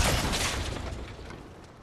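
A loud, broad blast erupts at once and fades into a rumbling, hissy decay over about two seconds, a Fortnite grenade exploding nearby.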